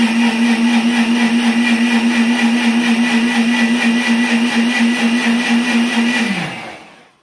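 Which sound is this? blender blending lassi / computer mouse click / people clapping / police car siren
blender blending lassi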